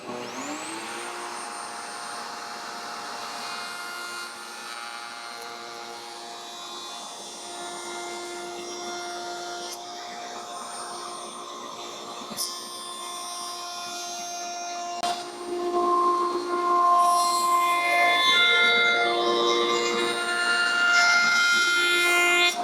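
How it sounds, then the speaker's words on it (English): A woodworking power tool running with a dust collector switched on, cutting cherry wood for a boot jack: steady loud whining drone with tonal hum, growing rougher and louder as the cut proceeds. "I'm going to have to turn the dust collector on and this on, and it's going to make lots of sawdust."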